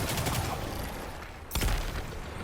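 Gunfire in Destiny 2 during Pale Heart combat: a dense burst of rapid shots at the start, a lull, then a sharp heavy blast around the midpoint followed by more firing, fairly close and loud.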